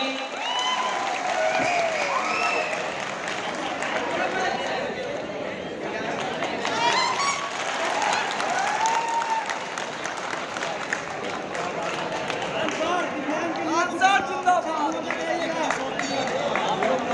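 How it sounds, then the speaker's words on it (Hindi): A large crowd claps loudly as Khan Sir is crowned, with dense, continuous applause mixed with crowd noise and scattered voices over the whole stretch. "इसके लिए जोरदार ताली।"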